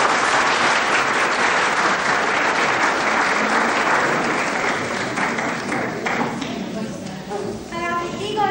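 A school audience at an evening Greek-Cypriot wedding performance claps steadily in a dense, sustained burst of applause that tapers off toward the end, with voices audible underneath.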